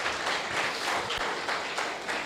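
A church congregation applauds in steady, dense clapping, moderately faint and heard alone without talk over the short stretch.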